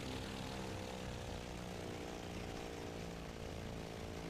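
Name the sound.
aircraft engine in video game IL-2 1946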